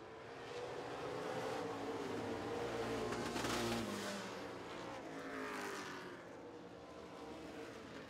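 Street stock race cars roar around Smoky Mountain Speedway, engines loud and sustained as the pack runs side by side down the back straightaway, the pitch sweeping up and shifting as they pass, with no talk heard over them.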